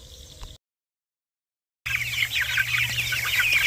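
About three-week-old Cornish cross broiler chickens cluck and cheep together in a steady, busy chatter nearby after a short silent gap, with a low hum underneath.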